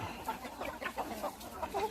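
Chickens clucking softly at a rural garden home in Mae Sariang, heard faintly at a distance as a scatter of short calls over steady background noise.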